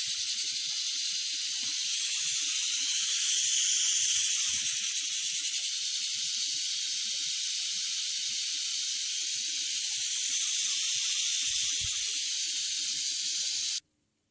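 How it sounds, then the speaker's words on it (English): Steam hissing from an Instant Pot pressure cooker building pressure while cooking bell peppers, a loud continuous, steady hiss that runs unbroken and then cuts off abruptly at the end. "You can hear some steam going over here."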